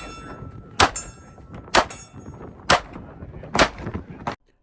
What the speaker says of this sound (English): So now I should be able to shoot.